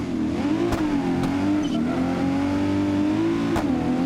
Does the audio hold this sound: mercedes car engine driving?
yes